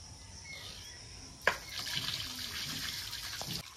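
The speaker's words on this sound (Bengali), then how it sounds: "এবার মাছের তেলটা সুন্দর করে ধুয়ে নেব" Running water pours steadily over katla fish fat being washed, a sudden splash at the start of the flow, then a continuous close hiss and patter of tap water with no voices.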